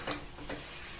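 Cooked cabbage with ghee and garam masala, Bengali style, stirred in a pan: two soft scraping strokes, quiet and close, with no talking.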